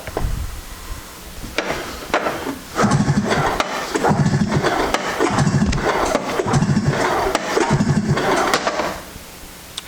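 A snowmobile engine is pull-started repeatedly during a cylinder compression test, several rhythmic cranking pulls in a row, each a loud rasping churn with rattling, close and without talk.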